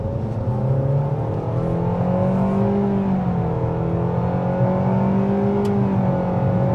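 A 2025 Nissan Kicks SR accelerating on a Florida road, its engine droning steadily from inside the cabin with rising and falling tones and a constant hum of road and wind noise.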